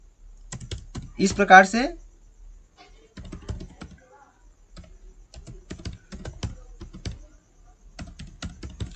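Quick bursts of clacking on a computer keyboard, near and clear, separated by pauses, with someone talking in between the typing.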